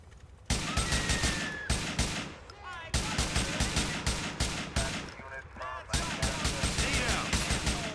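Rapid automatic gunfire in Grand Theft Auto IV, loud sustained bursts of close shots broken by short pauses, with bullet impacts and a voice talking between volleys.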